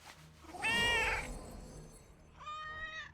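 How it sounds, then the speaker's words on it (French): A cat meows in the World of Warcraft video game, one loud close drawn-out meow followed after a pause by a second softer, higher mew, over faint game ambience without speech. "Un chat!"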